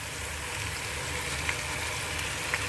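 Jaggery cooks and melts with vinegar in a pan for a sweet-sour carrot, cauliflower and turnip pickle, giving a soft, continuous bubbling sizzle with a couple of faint clicks.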